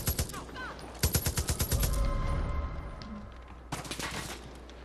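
Rapid bursts of video game gunfire from Far Cry 5 during a firefight near a mortar position, with clustered volleys at the start, a sustained stretch, then another loud burst near the end.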